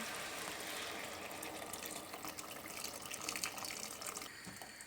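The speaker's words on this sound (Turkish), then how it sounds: "Üzerine sıcak su ilave ediyorum." Hot water pours steadily into a pot of Turkish pea stew, a continuous close gushing fill with no talk over it.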